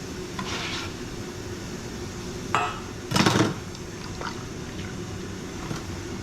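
Garlic goes into a pan and is stirred. A steady low hiss runs under two brief scraping and clattering bursts, with no voices.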